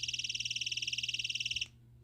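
A small flashlight's 80 dB personal alarm sounds a rapid, shrill electronic chirping like an angry cricket. The pulsing beeps repeat steadily at close range, loud and piercing, then cut off abruptly near the end.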